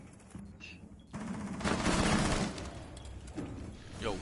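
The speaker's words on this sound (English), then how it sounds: "who is shooting and why are you shooting?" Gunfire bursts in the video game Rainbow Six Siege, several overlapping rapid volleys swelling to a loud peak midway, then fading into scattered shots and faint game noise.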